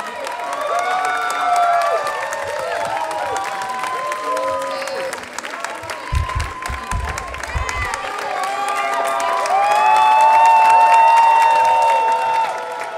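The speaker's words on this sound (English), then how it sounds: "Please, a big round of applause." Sustained audience applause and cheering at the ISWI 2019 closing ceremony, a dense wash of clapping with whoops and raised voices from the crowd throughout, swelling louder toward the end.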